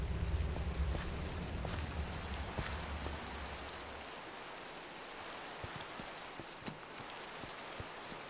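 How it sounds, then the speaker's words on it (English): Steady rain from the video game Minecraft, a dense even hiss of falling drops that continues throughout, with a low rumble in the first half that drops away midway and a few faint clicks and thumps scattered over it. "Rain. That's annoying."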